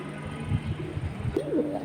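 Pigeons coo at a pigeon sale, several low throaty calls rising and falling in quick succession, fairly close, with a brief brighter call near the end.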